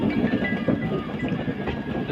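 A weekly express train runs on the Kalaburagi–Bengaluru SMV route, a steady low rumble of wheels on rails with a faint tonal hum, continuous and fairly close for a couple of seconds.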